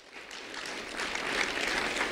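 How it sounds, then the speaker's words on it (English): A school audience gives a round of applause for Dr. Pete Boathatch, Director of Student Services, the clapping swelling from a soft start into a full, steady ovation. "A round of applause for Dr."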